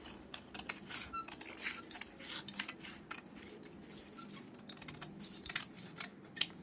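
Scissors snip through fabric while cutwork embroidery is trimmed, a run of quick, crisp close-up clicks and slicing strokes repeating steadily without pause, with faint light handling noise between cuts.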